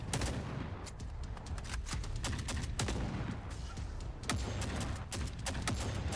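Rapid gunfire in the video game The Forever Winter, with sharp, crackling shots repeating in fast irregular bursts for the whole stretch, dense and steady with no voices over it.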